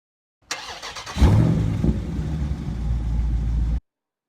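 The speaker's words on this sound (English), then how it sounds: "We're going to show you a sound clip here of the car starting" A Dodge Charger engine with active exhaust deleted cranks briefly, then fires up with a loud rumble and settles into a steady, deep idle before cutting off.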